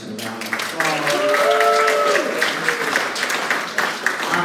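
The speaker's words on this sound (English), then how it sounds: "give our wonderful Kimberly Bush, the wonderful lady in charge of Real Affirmation, a round of applause" An audience applauds loudly and steadily at a live event, with cheers and a voice carrying over the clapping throughout.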